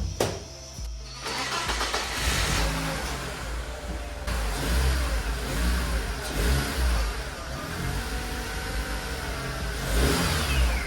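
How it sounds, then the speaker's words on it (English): BMW E36 car engine cranks and starts after a starter repair, then settles into a steady, slightly rough cold idle with light revving, close and loud throughout. "The car has a rough idle when the engine is cold"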